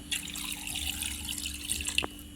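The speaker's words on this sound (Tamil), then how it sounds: "இந்த எலும்போட 3 கப் தண்ணி ஊற்றிக்கொள்ளுங்க." Water is poured into a pot over country chicken bones, a steady splashing pour with a faint trickle that runs for a couple of seconds and ends with a small splash, with no voices.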